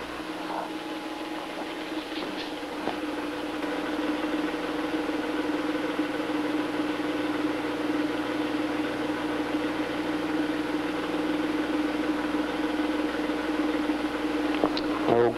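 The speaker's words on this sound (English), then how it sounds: "let's shut the pump off again and let the system equilibrate" A vacuum pump evacuates a chemistry lab system, giving off a steady, close mechanical hum that runs unbroken throughout.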